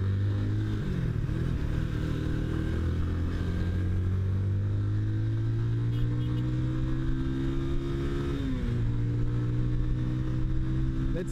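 Beth Iron Horse 180 motorcycle being ridden, its engine droning steadily with rising pitch as it accelerates, a brief gear-change dip near the start and another later, loud and close.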